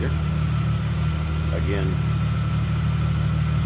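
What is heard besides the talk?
2000 Plymouth Prowler 3.5 liter V6 engine idling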